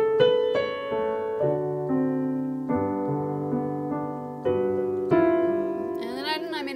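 Beginner piano plays a melody with sustained chords, notes changing every second or so at a steady moderate loudness, with a small stumble near the end.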